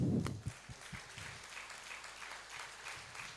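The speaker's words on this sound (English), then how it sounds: "give applause, please" An audience at a Malaysian fintech conference breaks into applause, a steady wash of many hands clapping at moderate distance, fairly quiet throughout.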